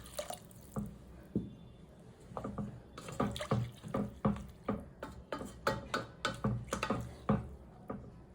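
Water poured into soaked rice in a pot for a peas paneer pulao, heard as a quick series of close splashes, drips and gurgles at an uneven pace.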